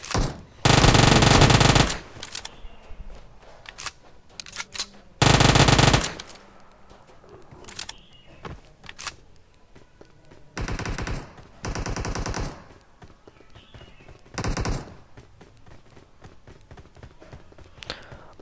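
Automatic weapon fire in a mobile shooter game, several loud sustained bursts of rapid gunfire separated by quieter stretches of footsteps and small game sounds.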